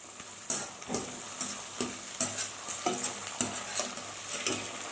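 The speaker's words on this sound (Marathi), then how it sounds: "आता आपण मटार तेलात सोडल्या की झाकून ठेवा, कारण त्या उडण्याची शक्यता असते." Green peas frying in hot oil in a covered pan, a steady close sizzle broken by repeated sharp pops and spatters roughly every half second, with no talking.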